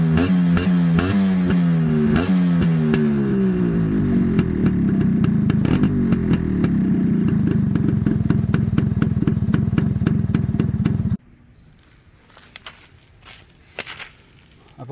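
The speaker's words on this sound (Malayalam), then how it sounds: "നമ്മുടെ വണ്ടിയിൽ ഇരിക്കുന്ന സ്റ്റോക്ക് കാറ്റ് സൈലൻസിൻ്റെ സൗണ്ട് ഒന്ന് വെച്ച് തരാം" A Yamaha RXZ motorcycle on its stock silencer revs up and down in rising and falling sweeps, then settles into a steady, loud, close idle before the engine cuts off, leaving faint clicks and clatter.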